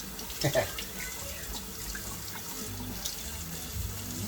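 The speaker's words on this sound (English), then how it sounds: "Rinse it off." Tap water runs steadily into a kitchen sink while rinsing, a continuous splashing flow with a brief louder splash near the start, no talking.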